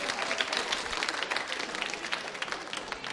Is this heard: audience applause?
yes